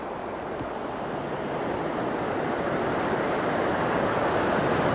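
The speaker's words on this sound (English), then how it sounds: "here's the water flushing down Church Street onto Main Street, Route 9" Flood water rushes steadily down Church Street onto Main Street, Route 9, in a Champlain village, a dense, continuous roar that swells slightly louder partway through, with no voices.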